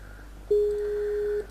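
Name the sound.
Skype message or call notification sound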